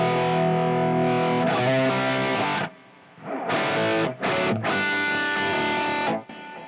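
An electric guitar played through an amp rig with a delay effect and distortion rings out in sustained chords and phrases, with brief gaps between bursts and echoing repeats trailing off, loud and close with no talking.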